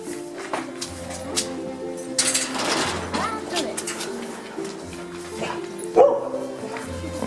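Dogs bark and yip now and then inside a doggy day care, with a short louder burst near the end, while people talk over a steady indoor background.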